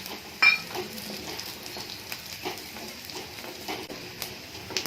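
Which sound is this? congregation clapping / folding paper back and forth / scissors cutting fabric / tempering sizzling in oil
tempering sizzling in oil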